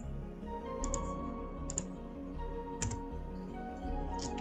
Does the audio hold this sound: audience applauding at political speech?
no